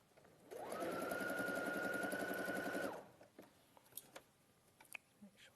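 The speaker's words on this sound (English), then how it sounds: "I'm only going to stitch it once right now." A sewing machine runs a single line of stitches through fabric for about two seconds, a steady close mechanical whir, followed by faint handling clicks and rustles.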